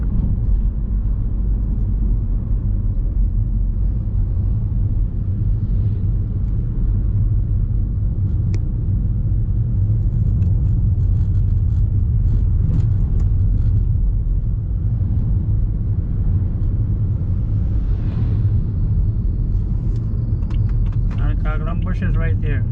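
A vehicle drives along a residential road near Coghlan Dam in Pouderoyen, West Bank Demerara, Guyana, a steady low rumble of engine and tyres continuing throughout with faint higher clatter near the end.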